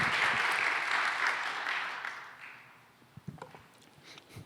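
A young adult congregation claps during a Sunday worship service; the applause is moderate and fades out after about two seconds, leaving a few scattered claps and quiet room noise.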